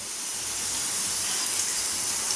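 Whole spices such as cinnamon, cardamom, cloves and bay leaf drop into hot oil for tempering a pepper paneer fry, giving a steady, close, bright sizzling hiss throughout.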